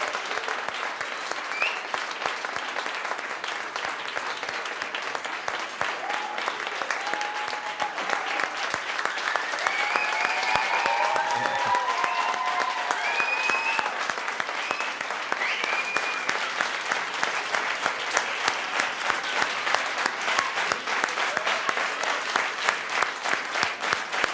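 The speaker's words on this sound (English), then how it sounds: "A big applause to our" Audience applause at a South Summit Kids event fills the room for over twenty seconds, a sustained, dense clapping that swells a little midway, with faint background voices underneath.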